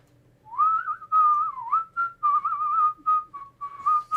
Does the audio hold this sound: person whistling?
yes